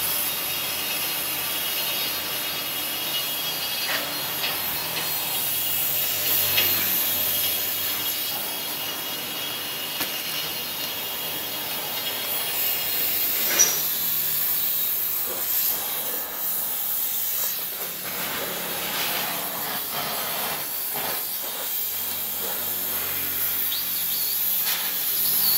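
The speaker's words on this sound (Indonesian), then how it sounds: "Ini kita potong di bagian atas dari WF atau dari sayapnya." Cutting through the top flange of a steel WF beam produces a continuous, fairly loud hiss and rasp with scattered crackles and rubbing noises over about twenty-five seconds.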